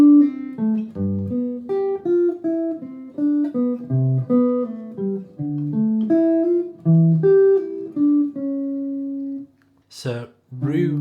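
A clean jazz guitar plays a slow single-note line over a back cycle turnaround, moving through a series of plucked notes with a clear, warm tone, close up and alone until a brief vocal sound near the end.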